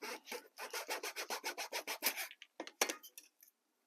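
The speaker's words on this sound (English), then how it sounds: "I'm just going to use my razor saw for that." A fine-toothed razor saw rasps through a small piece of wood for a model in quick, even back-and-forth strokes, about a dozen in a row, then a few slower final cuts, close by.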